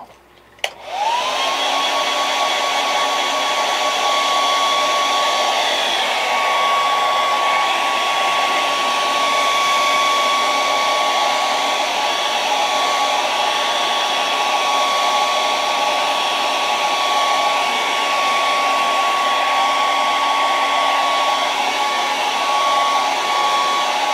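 A hair dryer blasts air over a keepsake fishing lure, switching on sharply and then holding a loud, unbroken whine and rush for over twenty seconds, with no talk.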